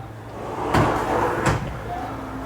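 A kitchen cupboard drawer opening and closing, two distinct sharp knocks about a second apart with soft sliding in between, close and fairly loud in a quiet room.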